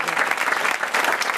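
Studio audience applauding on a French radio-TV comedy panel show, a dense steady wash of clapping that fills the whole moment, close and loud with no gaps.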